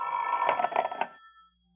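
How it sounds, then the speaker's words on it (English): An old telephone bell rings in a radio drama sound effect, a single rattling burst lasting just over a second before cutting off into silence. "The telephone sounded like it was ringing miles away."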